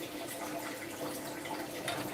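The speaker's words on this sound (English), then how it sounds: "The chocolate has boiled, so I'm going to pour some chocolate." Boiled hot chocolate is poured from a pan on a stove, giving a steady, close liquid splashing and trickling that runs continuously throughout.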